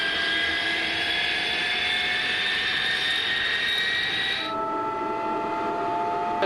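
De Havilland Vampire jet fighter engine during start-up, a loud steady turbine roar with high whining tones that abruptly drop in pitch as the start motor cycle ends, heard close and without talk.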